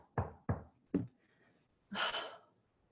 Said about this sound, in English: a hard knock on my car window